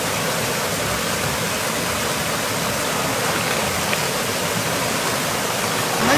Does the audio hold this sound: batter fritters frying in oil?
no